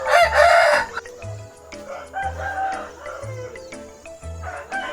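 A Bangkok fighting rooster crows loudly up close, with a long crow at the start, followed by clucks and shorter calls from other fowl nearby in a rural village setting in Indonesia.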